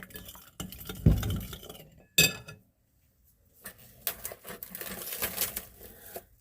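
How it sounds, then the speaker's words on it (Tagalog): Sesame oil is stirred into a beef bulgogi marinade with a spoon in a bowl, giving close clinks and scraping that come in two bursts, then a short pause and a longer run of busy mixing. "Just mix it together"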